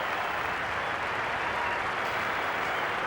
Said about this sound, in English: He acknowledges warm applause from people who much respect Ricky Ponting